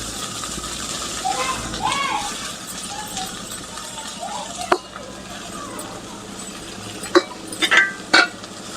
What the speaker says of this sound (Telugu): ఇప్పుడు మనం కడిగి పెట్టుకున్న తోటకూరని ఇందులో వేసుకోవాలి. వేసుకొని ఒకసారి కలుపుకోవాలి.